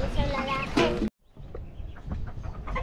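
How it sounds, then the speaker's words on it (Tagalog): Chickens and chicks of a Chinese breed cluck softly nearby with a few faint chirps, broken by a sudden brief silence before the murmuring clucks resume. "Ayan, yung mga sisiw."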